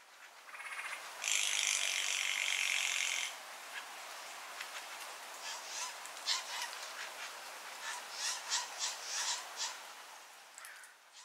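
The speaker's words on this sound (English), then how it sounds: "you may hear a rattling sound, which is made by the female" A female Steller's jay gives a dry, mechanical rattling call, one loud sustained burst followed by a string of shorter, sharper rattles and chatters, fairly close, with no other voices.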